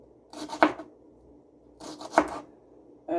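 A knife slices through peppers on a cutting board while cowboy candy is made for canning, giving a few distinct crunchy strokes with pauses between, close and clear, and no voices.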